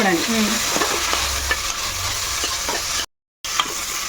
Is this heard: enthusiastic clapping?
no